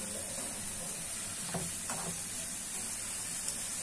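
Thin pastry sheets fry in hot oil with a soft, steady sizzle and a few brief bubbling spurts, close and fairly quiet.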